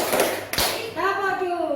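Schoolchildren in an Indonesian classroom clapping together, a short burst of quick hand claps at the start followed by a voice speaking.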